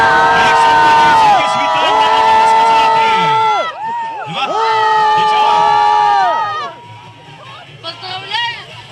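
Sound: crowd applauding at school winter parade

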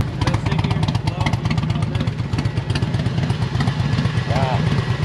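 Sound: motorcycle engine idling

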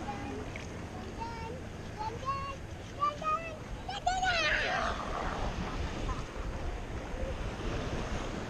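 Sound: choppy waves on the bay around a boat

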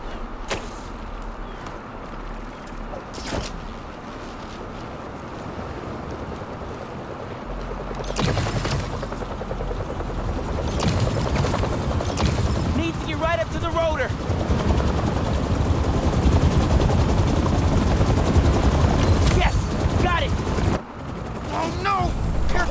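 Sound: helicopter blades, from video game Spider-Man 2

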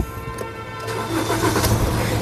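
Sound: Maruti Suzuki Ertiga 1.5 litre diesel car engine starting

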